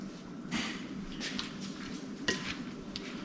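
Thai beef salad of grass-fed steak, tomato, cilantro, green onion, ginger and garlic tossed in a bowl, with soft wet stirring and a few sharp utensil clinks against the bowl, close and quiet.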